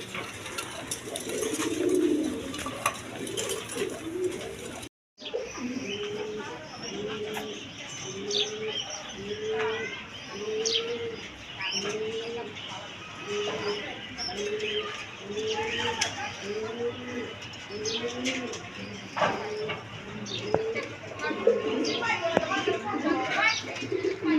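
Farm-bred pigeons coo in a steady, rhythmic run of low repeated calls close by, with chirps scattered in and a voice speaking over parts of it.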